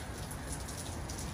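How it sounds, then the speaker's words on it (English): Rain falling steadily outdoors, a soft continuous hiss of drops on surfaces, faint and even with no voices over it. "It's rain. First time seeing rain."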